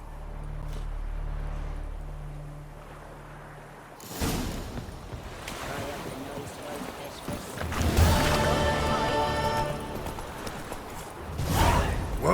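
Hooves of Roach, a horse ridden in The Witcher 3, clatter at intervals amid game ambience and whooshing, with louder bursts of activity partway through.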